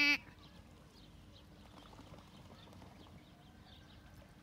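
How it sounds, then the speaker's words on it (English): Goats and other livestock on a farm, their bleats faint and scattered over a steady outdoor background with distant animal movement and no clear talk. "there's a lot of goats"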